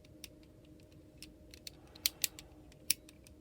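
A Transformers Demolishor toy figure being handled, giving a scattering of small sharp plastic clicks and ratchets, a few louder snaps among fainter ticks, close by and quiet with no talk.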